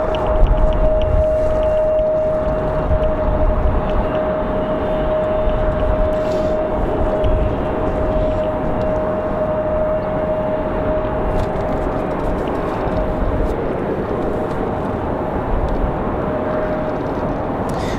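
A Delta CRJ jet moving on the airfield at Raleigh-Durham International Airport on a windy day produces a loud, continuous engine whine and rumble over a steady tone, with no talk.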